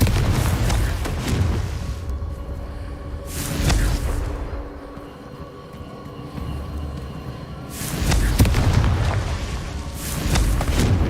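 Fire-spell blasts in the Hogwarts Legacy video game land as deep, rumbling booms, two heavy bursts framing a quieter stretch of low, lingering roar, loud and close.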